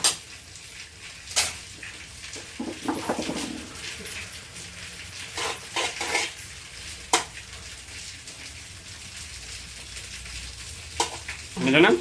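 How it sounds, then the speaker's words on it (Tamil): Ghee melting in a pan while a moong dal laddu is prepared, giving a low steady sizzle with scattered sharp clinks and scrapes of utensils against the pan. No one speaks. "நெய் 100 கிராமுக்கு மேலே இப்போ உருக்கிருக்கேன்"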